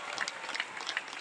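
Audience applause at a company's 15th anniversary event, a steady patter of many hands clapping at moderate, slightly distant level, with no voices.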